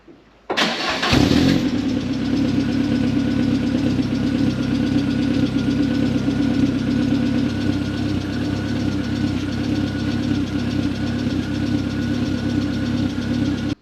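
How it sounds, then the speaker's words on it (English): A Mk1 Ford Fiesta engine turns over and catches, then idles loudly and steadily with a deep, rumbling exhaust note that holds without a break. "We're going to start the engine up and we're going to measure the exhaust"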